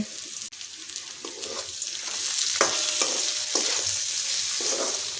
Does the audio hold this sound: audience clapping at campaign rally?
no